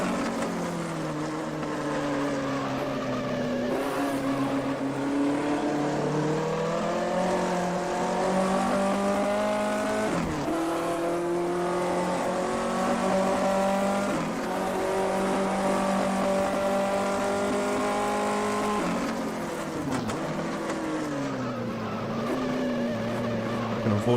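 Several 1958 Formula 1 race car engines roar continuously in a racing game at Silverstone, a loud sustained drone whose pitch rises and falls with gear changes and lap speed.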